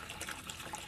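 A tap pours water steadily into a vessel, a short, even splashing rush heard close up without pauses.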